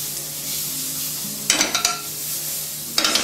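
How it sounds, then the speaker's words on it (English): Persimmon cooking in a pan with salt, a soft steady sizzle running throughout, broken by two short bursts of louder stirring and scraping clatter near the middle and at the end. "We're going to cook the persimmon for about a minute."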